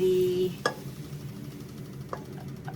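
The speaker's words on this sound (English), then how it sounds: "Just put a bit here, and the bell pepper. Again, we saute this till it's very translucent." Onions and bell pepper saute in a pan with a soft, low sizzle underneath, broken by a sharp utensil knock and a couple of lighter scrapes of stirring close by.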